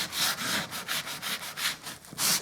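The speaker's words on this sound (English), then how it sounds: "And then give it a good sand." Fine sandpaper worked back and forth on an MDF skirting board, a close, soft rasping that pulses in quick regular strokes throughout with no talking.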